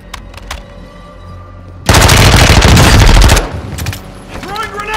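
Sustained burst of heavy machine-gun fire in the Vondel multiplayer shooter, loud and dense for about a second and a half, flanked by quieter distant shots and faint game ambience.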